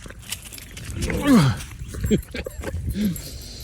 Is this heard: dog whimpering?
yes